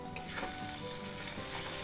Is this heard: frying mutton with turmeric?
yes